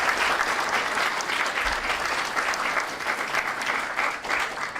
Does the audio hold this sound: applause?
yes